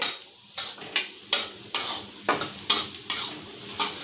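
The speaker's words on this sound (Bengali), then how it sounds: "রসুনটা একটু ভাজা ভাজা হবে" Chopped garlic frying in melted butter in a pan, a steady sizzle broken by repeated rhythmic scrapes of a spoon stirring, close and clear with no talk.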